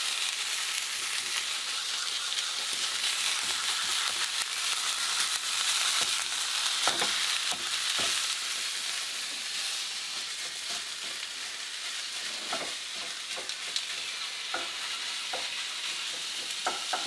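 Ground meat sizzles steadily in a hot frying pan while a utensil chops, scrapes and taps against it at irregular intervals.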